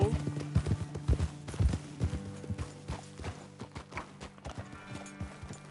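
Horse hooves clip-clop in Red Dead Redemption 2, an irregular patter of close hoof falls with occasional snorts, playing under spoken dialogue.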